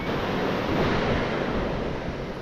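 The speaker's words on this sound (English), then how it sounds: "letting the waves wash whatever's in it out" Ocean waves wash onto a shell-strewn beach at Manasota Key, making a loud, continuous rushing surf hiss with wind buffeting the microphone and no talking.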